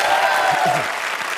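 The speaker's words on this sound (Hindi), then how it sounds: "विपुल जी के लिए जोरदार तालियां।" Loud, dense applause from a comedy show studio audience, a continuous wash of clapping lasting the whole brief moment with faint voices mixed in.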